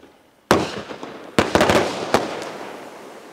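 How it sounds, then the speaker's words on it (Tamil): A seven-shot Sivakasi Diwali sky-shot firework fires at night: a sharp launch bang, then a cluster of rapid loud bursts and a final crack, each trailing off into echo. "இதுவுமே வந்து மேலே போய் வெடிக்கிறது"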